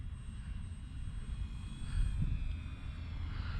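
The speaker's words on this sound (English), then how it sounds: "the Fat Guy Flies RC Flyer flies great." An RC model airplane, the Fat Guy Flies RC Flyer built on a Trekker airframe, drones steadily overhead at moderate distance, its propeller hum holding a continuous tone that swells slightly as it passes, with no talking.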